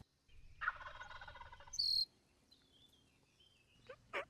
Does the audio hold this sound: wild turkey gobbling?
yes